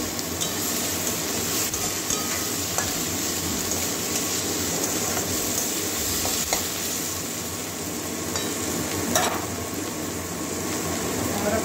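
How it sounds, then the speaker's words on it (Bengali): Chopped tomato fries with spices in a pan during the making of a paneer and soybean curry, giving a constant dense sizzle with scattered stirring scrapes and clinks close by. "কাঁচা গন্ধটা যাওয়া পর্যন্ত ভাজবো। এবারে টমেটো কুচিও দিয়ে দিচ্ছি।"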